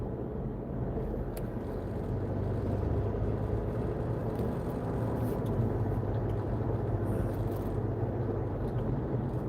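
A car driving along, a steady low road and engine rumble holding throughout with no talking, at a moderate level.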